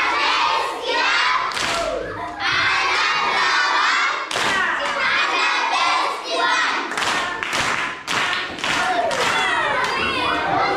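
Children at an art class in a community school clap and shout for a painting, loud and busy, with thumping hands and excited cheering voices all the way through.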